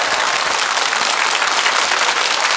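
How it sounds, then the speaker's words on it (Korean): Loud, dense audience applause fills a Korean TV family game show studio, steady and unbroken from start to finish with no voices over it. "양키 박수 주세요"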